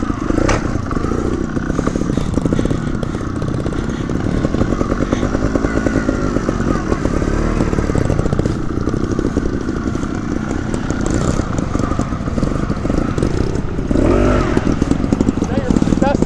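A trials motorcycle engine buzzes and revs continuously while the bike is leaned through a corner, loud and close throughout, with brief clattering and a louder surge near the end; voices talk over it.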